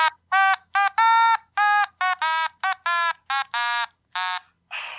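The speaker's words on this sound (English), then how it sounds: "That alarm always goes off at the worst times." An electronic alarm beeps in a rapid, uneven series of about fourteen loud, clean tonal bursts, each a fraction of a second long, with no talking over it.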